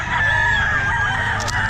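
Chickens at a Bocaue pet market, fighting-cock stock including eight-month Kelso birds, make continuous loud clucking and crowing close by over a busy crowd murmur, with a brief higher call near the end.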